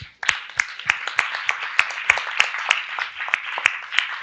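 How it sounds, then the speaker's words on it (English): Applause for a team at a closing plenary, a sparse, thin patter in which individual claps stand out in a loose, roughly regular rhythm, picked up at a distance as if through a conference recording. "Please join me in a round of applause for them."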